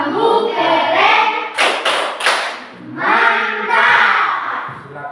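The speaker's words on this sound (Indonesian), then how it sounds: "Kita semua beri tepuk hebat untuk Natri" Group chant-and-clap cheer for a pupil named Natri in a classroom, with voices chanting rhythmically around a short burst of several sharp, loud claps in the middle.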